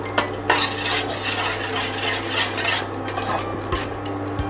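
Curd is whisked continuously in a pan over a low flame, producing a busy, close scraping and rasping of metal against the pan with a steady low hum beneath it.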